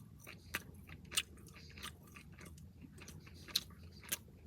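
Quiet, close chewing of a cornmeal arepa stuffed with shredded flank steak, with soft bites and a few sharper crunchy clicks spaced out over a few seconds and no talking.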